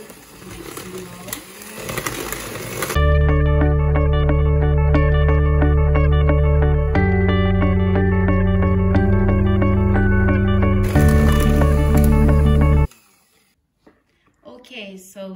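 Electric hand mixer beating gluten-free cake batter after vegetable oil has been added, a loud steady motor whir with slight pitch shifts running continuously, starting abruptly after a few seconds and cutting off near the end.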